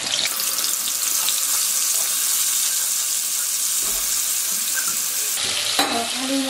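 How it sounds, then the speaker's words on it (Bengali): Potato pieces fry in a pan with a little fresh oil added after cauliflower, giving a constant watery hiss and sizzle up close that shifts slightly midway as the pan is moved. "এবার আমি আলুটাকে ভেজে নিচ্ছি।"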